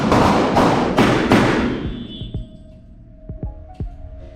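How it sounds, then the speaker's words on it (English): Pistol shots ring out on a firearms training range: several sharp, loud reports in quick succession over about a second and a half, followed by quieter metallic clinks and fading echoes. "Draw and fire 2 rounds in 2 seconds"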